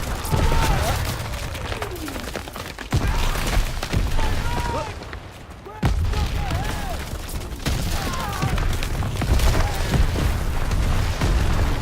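Artillery shells burst in a war video game, repeated booming impacts and crackling blasts rolling through the scene with no gaps, while voices shout orders over the battle.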